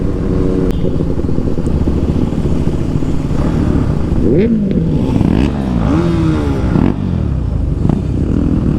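A KTM Duke 390 motorcycle engine drones loudly and steadily on a group road ride, with rising and falling revving partway through, heard close over continuous riding noise.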